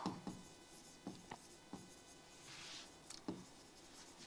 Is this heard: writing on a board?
yes